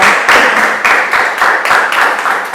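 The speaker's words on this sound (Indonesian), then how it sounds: "Tepuk tangan dulu untuk kita." A classroom of students at an Indonesian university claps together in a loud, rhythmic series of sharp bursts, roughly a beat every third of a second, close and unaccompanied.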